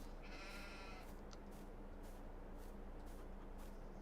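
Sheep in a pen in Farming Simulator 22 bleat repeatedly against a steady background hiss of game ambience, the calls moderately loud and spaced across the moment.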